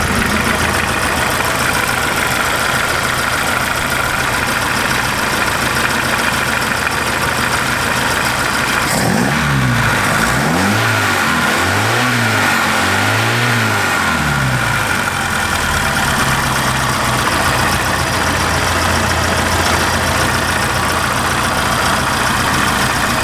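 A 1976 Volkswagen Golf engine runs loud and close at a steady idle, then revs up and down several times in rising and falling surges before settling back to idle, with no talking.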